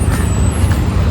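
A bus on a busy Chennai street lets out a loud, steady hiss of air-brake release over low engine rumble and traffic noise, close by and unbroken.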